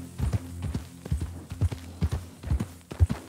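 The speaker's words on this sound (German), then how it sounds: "Galoppieren, zählt an der Ausdauer des Pferdes." A horse gallops in Red Dead Redemption 2, its hooves landing in a steady, repeating clip-clop rhythm of heavy thuds. The hoofbeats sound close and are heard alone, with no talk.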